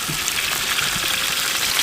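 Boiled chicken legs sizzle and crackle in hot ghee, a loud, steady frying hiss close by, with no talking.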